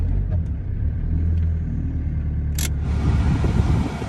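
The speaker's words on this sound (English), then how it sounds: "Rev it up for a second, you know, that way it shows you it holds temperature" 1996 Mitsubishi Delica L400 Chamonix Edition 4x4 engine revving while parked, a deep low rumble that swells and holds, with a brief sharp click partway through and no talking.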